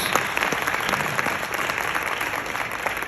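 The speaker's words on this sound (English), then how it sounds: "Give him a big round of applause." A crowd at a brunch event applauds steadily, with dense clapping from many hands, loud and close, holding at an even level throughout.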